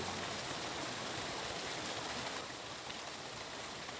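A waterfall on a river where a pair of dippers nest behind the falling water, a steady broadband rushing wash that stays even throughout, moderately distant and with no voices.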